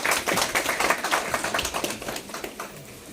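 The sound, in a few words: audience clapping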